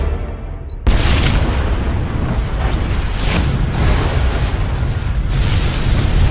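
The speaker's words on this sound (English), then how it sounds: "causing a huge explosion throughout the warehouse" A huge bomb explosion tears through a warehouse in a film scene, a sudden loud blast followed by a long, dense roar of rumbling debris and fire that keeps surging for several seconds.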